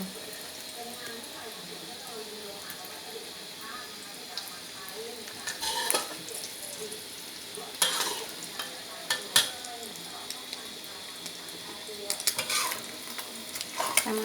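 A Thai omelette frying in a pan, with a steady soft sizzle and occasional sharp clinks of utensils against the pan, while someone speaks now and then.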